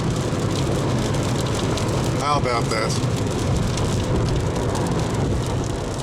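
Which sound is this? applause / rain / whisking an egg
rain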